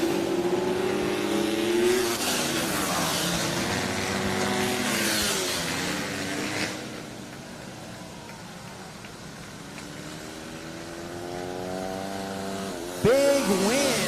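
Flat-track motorcycles, including a KTM, race through the final lap at a night event in Ashland, Virginia, engines wailing and rising and falling as bikes pass, then fading before another bike revs up near the end.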